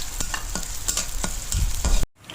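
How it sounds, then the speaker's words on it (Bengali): Onions sizzle in a frying pan for a shrimp-in-mustard dish, with a constant close hiss and repeated stirring scrapes every half second or so, ending in a sudden cut to near silence. "পেঁয়াজটা ভেজে নেব।"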